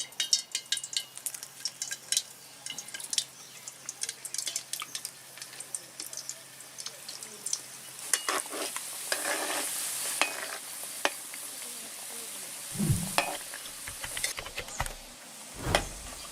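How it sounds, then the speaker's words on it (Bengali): Mung dal puli pitha dumplings fry in hot oil with a soft, steady sizzle and occasional stirring clatter, building louder midway with a few sharp knocks near the end; no one speaks. "বাকি পুলিগুলো আমি এভাবে ভেজে নেব।"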